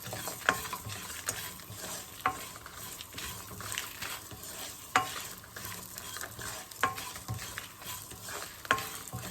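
Spices and curry leaves roast in hot peanut oil, with a steady sizzle and repeated spoon stirs and scrapes against the pan at a loose rhythm, close and fairly loud.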